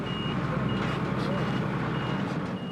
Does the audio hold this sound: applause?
no